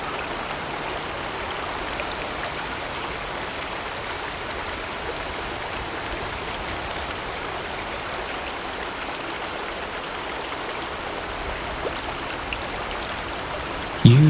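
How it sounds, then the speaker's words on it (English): A river beneath an old bridge rushes in a steady broadband wash, continuous and fairly close, with no talk and only a brief bump at the very end. "Just being near this much moving water feels like it is washing you clean."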